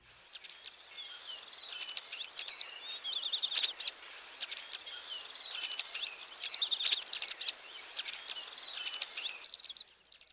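Dark-eyed junco call notes: a steady stream of sharp, high clicking chips and brief twitters over about ten seconds, close and clear with faint background hiss and no voices.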